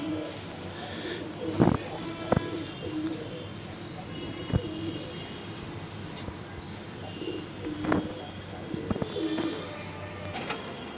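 Pigeons coo softly and repeatedly in a rooftop loft as several young birds are released for their first flight, the low calls recurring through a steady background hum with occasional louder bursts.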